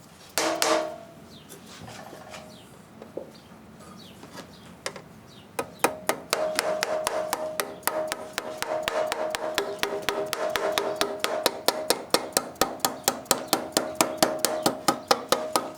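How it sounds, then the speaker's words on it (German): A nylon dead-blow hammer filled with small lead pellets strikes sheet metal edges on a plumber's bench during roof drainage work: a few isolated knocks, then a long run of rapid, evenly spaced blows, close and loud. "Am Klempnerbock ist daher Handarbeit gefragt und der richtige Hammerschlag"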